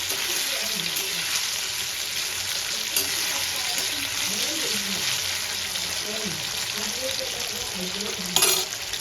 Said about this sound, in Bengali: এবার আলুগুলো লাল লাল করে ভেজে আমি তুলে নেব।